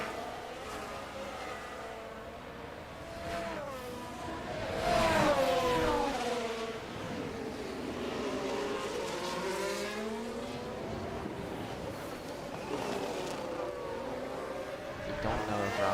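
Formula 1 cars racing the Canada round in an F1 racing game, engine notes rising and falling in sweeping pitch runs with a louder pass around midway, a steady continuous roar throughout.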